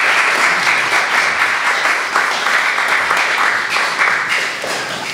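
Audience applause fills a concert hall at a music festival, welcoming two string quartet musicians, each from a different string quartet; dense, steady clapping continues throughout and eases slightly at the end.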